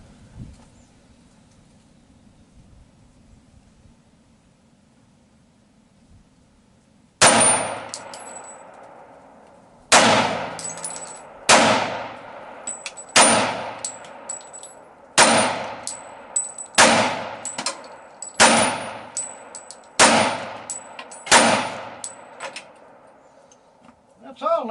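Bullets striking steel dueling tree targets, about a dozen sharp ringing clangs, each opening with a loud crack and fading in a metallic ring, spaced irregularly after a quiet lead-in.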